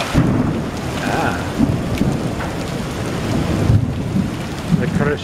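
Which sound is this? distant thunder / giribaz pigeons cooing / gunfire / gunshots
distant thunder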